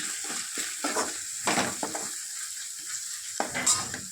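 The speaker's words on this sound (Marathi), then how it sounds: "अद्रक लसूण पेस्ट टाकली मसाला परतून घेऊ" Ginger-garlic paste and masala sauté in a pan for a sprouted moth bean curry, with scraping stirs and short bursts of sizzling over a continuous bright frying hiss.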